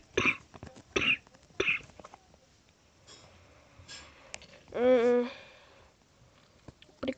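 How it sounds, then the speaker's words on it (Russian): A sick man coughs three sharp times in quick succession close to the microphone, then after a quiet stretch a short voiced sound follows at low level. "Вот я сейчас кашляю, потому что как бы я заболел."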